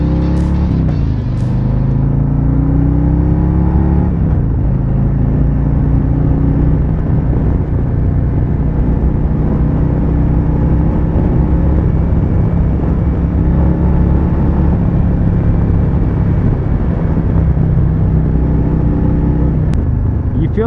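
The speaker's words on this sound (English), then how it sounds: "so what you're hearing is what this motorcycle would sound like straight out the dealership." Stock pipes on a 2021 Harley-Davidson Road Glide Special with its Milwaukee 8 114 engine give a loud continuous low rumble while riding, the pitch shifting up and down with throttle changes, a voice talking over it.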